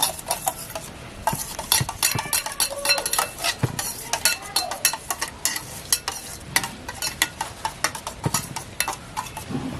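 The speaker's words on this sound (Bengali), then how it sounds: "এতে স্বাদ মতো নুন দিচ্ছি নুনটাকে একটু এই দইটাকে ফাটিয়ে নিচ্ছি" Yogurt with salt whisked in a bowl, a quick run of close, bright clinking and scraping strokes in an irregular rhythm, fairly loud with no voices.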